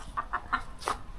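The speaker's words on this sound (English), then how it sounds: "Oh, the chickens got out." Chickens cluck outdoors in a garden area, giving four short, moderately close clucks spaced evenly across a second, with no talking.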